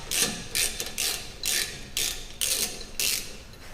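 A 12mm socket ratchet works loose an emergency line bracket on a Toyota Tacoma leaf spring mount, giving bursts of quick metallic clicking in about seven back-and-forth strokes, close and alone.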